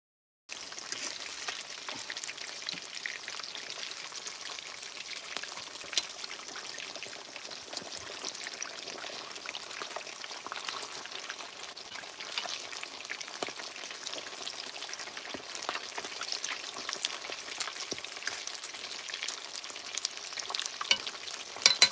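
Jamaican snapper fish frying in hot oil outdoors for Easter, a steady, close crackling sizzle with scattered pops running the whole way through, with no talking.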